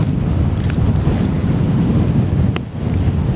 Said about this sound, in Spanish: Ese viento está frío.